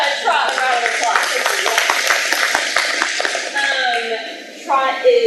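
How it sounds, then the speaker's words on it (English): An audience at a women's wellness event gives a round of applause, with scattered claps under voices and cheering that fade toward the end. "let's give Trot a round of applause"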